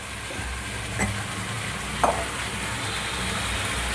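Papaya pieces frying with potatoes in a pan over low heat for a vegetarian dish, a soft continuous sizzle with a couple of brief stirring scrapes, no talking.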